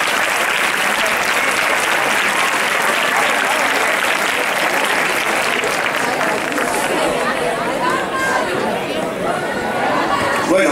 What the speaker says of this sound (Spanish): Por favor, un aplauso para ella.